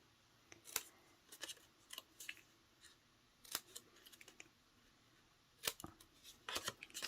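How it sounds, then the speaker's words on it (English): Scissors snip the corners off cardstock for a fold card, making several quiet, sharp cuts spaced irregularly in an otherwise hushed room. "we're going to snip off those corners"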